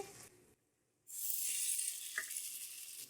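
Oil is poured onto a hot coal set in with tandoori chicken to smoke it. A short quiet gap gives way to a sudden loud hiss and sizzle that holds steady and close until the end, with no talking.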